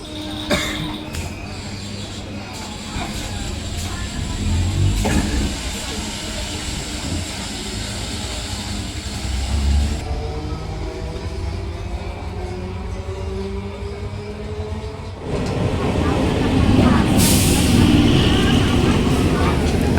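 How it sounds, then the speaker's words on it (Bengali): A passenger train pulling into a station platform where people wait, its rumble and screeching wheels building and growing louder toward the end, with voices and a cough among the waiting crowd. "আমার যাওয়ার ট্রেন এখন চলে আসলো।"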